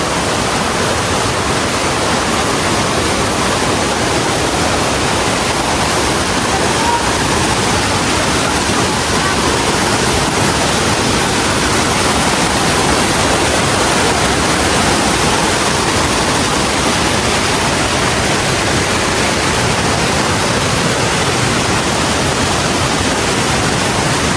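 Steady, loud rush of a waterfall in the Philippines fills the whole clip, a dense continuous roar with no breaks.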